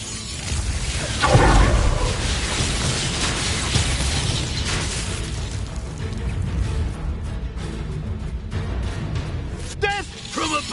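Bombarda spell explosion in Hogwarts Legacy on hard difficulty, a sharp loud blast with a booming burst near the start, followed by crackling debris and magical combat noise, with voices speaking over it.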